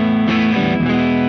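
A Yamaha Revstar RSS02T electric guitar in Sunset Burst, through fairly high-output pickups and a Leo Nocentelli CryBaby wah, rings out a sustained chord with a clean tone pushed to the edge of breakup, loud and close with a slight gritty edge.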